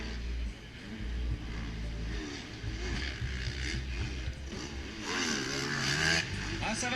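MX2-class motocross bikes race at Thomer-la-Sogne, engines droning and revving as riders battle, heard at moderate distance over a crowd with commentary running on top.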